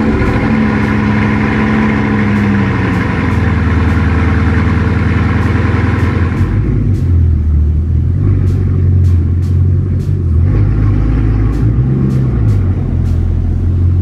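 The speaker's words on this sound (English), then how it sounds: "Alright guys, we just pulled the Bugatti out." A Bugatti engine idles and rumbles loudly as the car is driven out of a garage, its deep, steady drone shifting in pitch as the engine eases on and off the throttle, with no voices.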